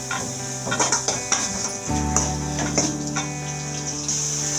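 Finely chopped beans are stirred and fried in a pan for cauliflower fried rice, giving a continuous scraping and light sizzle that rises and falls with each stir, over a steady tonal hum in the background.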